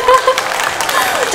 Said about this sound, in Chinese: 稍等，等着你们的掌声。